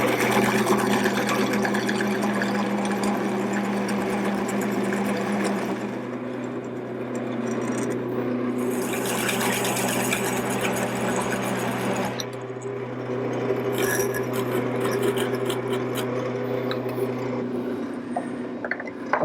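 A wood lathe spinning a workpiece while shoulder sections are turned to diameter for a table, giving a steady motor hum with a scraping cutting tone that pauses and resumes.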